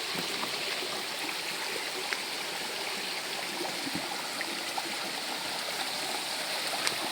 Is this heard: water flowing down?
yes